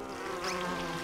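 In the video game Głupki z Kosmosu, a fly buzzes in a continuous, close, steady drone for about a second, with no talk over it.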